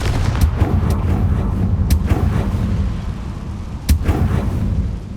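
Confringo fire spells cast in the video game Hogwarts Legacy burst as sharp explosive blasts, about five separate booms spaced irregularly over a low rumbling background, loud and close.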